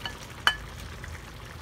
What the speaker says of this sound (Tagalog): So, ihulog na po natin itong ating piniritong talong.